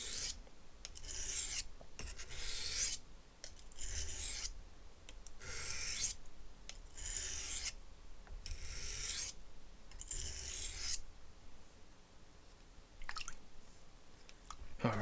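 A knife with a broken tip is drawn across a sharpening stone in slow, rasping strokes to remove burrs, about six evenly spaced scrapes close up, then a quieter stretch with faint handling.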